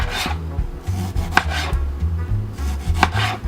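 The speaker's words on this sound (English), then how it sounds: "Cut them into slices." Tomatoes sliced with a kitchen knife on a cutting board, several firm rhythmic chops with low board thuds, close and clear with no talk.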